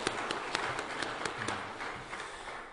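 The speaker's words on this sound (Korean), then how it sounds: "하나님께 영광의 박수 돌리겠습니다." Congregation clapping during a Sunday church service, a dense, fairly distant wash of many hands with scattered sharper claps, continuing evenly for a few seconds with no speech on top.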